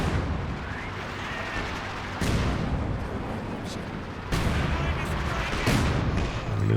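An artillery barrage in a World War strategy match, dense overlapping booms and rumbling blasts that roll on continuously with sudden louder surges, loud and full throughout.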